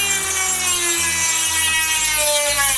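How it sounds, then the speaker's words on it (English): A Dremel rotary tool cuts down a metal bracket for a Talaria Sting street-legal kit with a high, whining grind. Rapid rhythmic chatter runs underneath, loud and close, and the pitch shifts partway through. "I'm just gonna Dremel this down and use that for my bracket."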